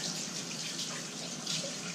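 Tap water runs steadily into a sink as hands are rinsed, a faint continuous splashing hiss with no voices.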